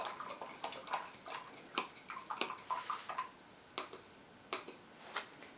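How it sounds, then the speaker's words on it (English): A paintbrush is rinsed in a jar of dirty water during ink wash painting, giving a quiet run of small splashes, drips and light taps against the container, in irregular bursts with short pauses. "Go ahead and rinse your brush in your dirty water."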